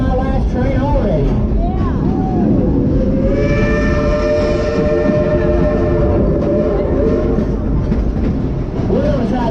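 A loud, rumbling train runs throughout with horn-like tonal blasts in the middle and voices mixed into the noise.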